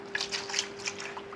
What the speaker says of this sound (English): we're going to pour our fresh transmission fluid into this bucket.